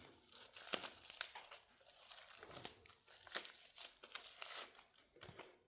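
Crinkly packaging being torn and unwrapped from parcels of Japanese goods, including a Famicom game, with repeated close crumpling and tearing bursts in an irregular rhythm, no talking.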